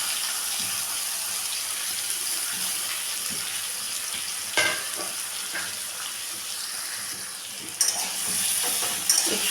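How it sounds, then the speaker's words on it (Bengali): Cut radish and eggplant fry in hot oil with fenugreek seeds and chopped tomato, a steady loud sizzle with scraping stirs and a few sharp clacks of the spoon against the pan. "তেলটা গরম করে নিলাম, দিলাম মেথি ফোড়ন, একটা টমেটো কুচিয়ে দিয়ে দিলাম কেটে রাখা সবজিটা"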